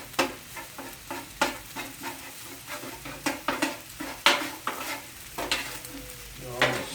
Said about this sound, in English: Keep chopping, mixing on the rice.